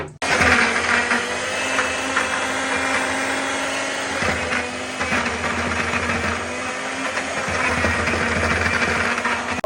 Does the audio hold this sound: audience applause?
no